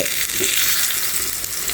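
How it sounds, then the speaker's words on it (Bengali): Sweet pumpkin pieces frying in a pan give a continuous bright sizzle, loud and close, with no voices. "এটা এভাবে উল্টে পাল্টে লাল করে ভেজে নিলে অনেকটা মজা হয় খেতে"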